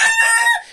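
Roosters, with younger birds noted as better, crow in a loud, close burst that holds a strained, harmonic-rich call for most of a second before tapering off, with no one speaking over it.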